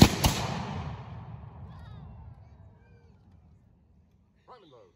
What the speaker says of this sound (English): Great volley.